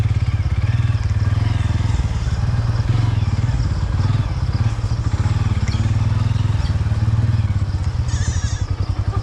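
Motorcycle engine running close and loud for the whole stretch, a steady pulsing rumble with rattling clatter over it, on a rough village road.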